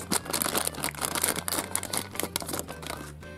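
Plastic wrapper of a Kinder Surprise egg's inner packet crinkling and tearing open close up, a dense stream of crackles over about three seconds, with no talking.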